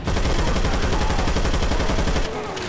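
Rapid sustained automatic gunfire aimed at the Tank in Left 4 Dead 2, loud and continuous for about two seconds before cutting off abruptly.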